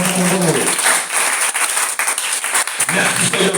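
A church congregation claps and cheers loudly and continuously, dense applause filling the room with voices rising through it and brief dips before the clapping swells again.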